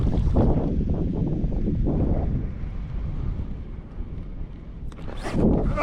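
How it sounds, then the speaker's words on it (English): Gusty wind buffets a boat out on Lake Guntersville during a bass fishing tournament, a steady loud rushing roar with low rumbling gusts that swell and fade, no voices. "If the wind's gonna keep up like this"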